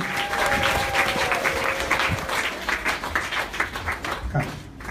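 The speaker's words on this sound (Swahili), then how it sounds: "Hebu tupigie Bwana makofi makubwa." Church congregation at a Sunday service applauding loudly and steadily, dense continuous clapping from many people that carries on for the whole stretch, with a brief whistle-like tone early on.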